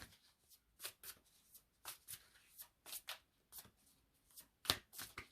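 Tarot cards being shuffled by hand, a quiet run of soft riffling bursts and taps in an irregular rhythm, close by and faint with no talking.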